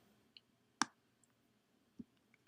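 Computer mouse clicks in a website editor while text is being formatted: a few sharp, isolated clicks spaced irregularly against near silence, close and quiet.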